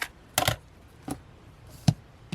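Packing tape is cut in a handful of sharp, separate snips and ticks, spaced irregularly, close and fairly quiet, with no voices.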